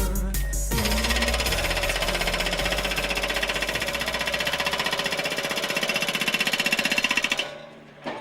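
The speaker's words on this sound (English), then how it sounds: "Impact Hammer." A jackhammer-style impact hammer pounds in a rapid, steady stream of loud, close blows for about seven seconds before it stops abruptly.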